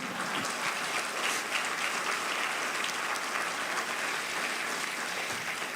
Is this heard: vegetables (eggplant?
no